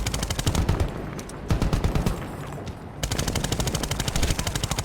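Automatic weapons fire in Medal of Honor (2010), a PC military shooter: loud, rapid machine-gun bursts in three sustained strings with brief gaps between them, close and dominant with no talking.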